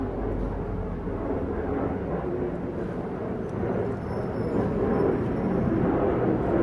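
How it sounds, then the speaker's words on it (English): Airplanes flying overhead make a steady, rumbling roar that fills the whole stretch without letting up. It sounds moderately distant, and nobody speaks. "there's a lot of sound right now, especially from the airplanes"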